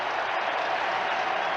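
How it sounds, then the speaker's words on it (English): A baseball stadium crowd at Game 7 of the 1979 World Series roars and applauds as a dense, steady wash of cheering that stays loud and even throughout, with no break. "Crowd on its feet."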